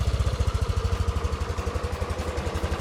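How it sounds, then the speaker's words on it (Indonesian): Tuned Yamaha Aerox 155 scooter idling after porting, cam and ECU remap work, a close, steady, dense exhaust putter with a fast regular pulse and slightly uneven revs, alone with no talk. "yang gue dengar dari knalpot itu kayak lebih padat banget suaranya"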